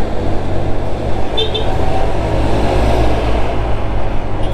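Steady road and traffic rumble with wind roar while overtaking on a Honda Click scooter on a highway, the engine drone constant and fairly loud throughout.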